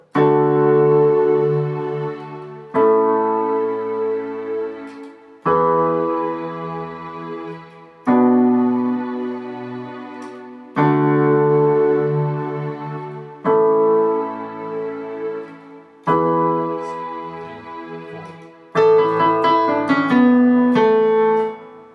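Sustained piano chords play the intro of a song, each chord struck and left to ring for a couple of seconds in a slow, steady sequence, ending with a quicker run of notes, with no voices.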